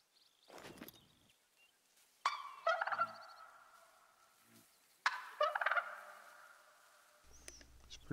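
Wild turkey gobbles in a hunting video game answer a mating call, coming as two loud, rattling bursts separated by pauses, with some soft rustling in between.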